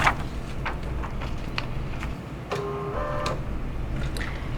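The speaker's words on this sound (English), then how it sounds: "please make sure to always preset your printer with the paper ballot" A printer feeding and printing a paper ballot at an electronic poll book station, with a close mechanical ticking and whirring and a brief tonal motor whine partway through.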